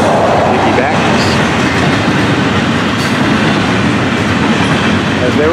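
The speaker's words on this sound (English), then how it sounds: "this train normally all intermodal, neatly double stacked, piggybacks." A long intermodal double-stack freight train on the Florida East Coast line rolls past close by, a loud, steady rumble with a rhythmic clickety-clack of wheels over rail joints and faint squeals throughout.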